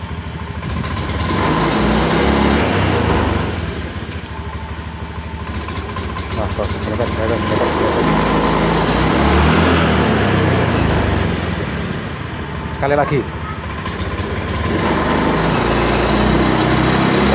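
Honda Beat scooter engine struggling to climb hills, revved repeatedly and sputtering unevenly, a close, loud idle-to-rev drone with rough surges under someone talking.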